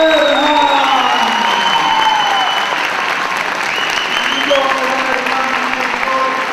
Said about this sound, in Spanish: Con un fuerte aplauso de ejemplar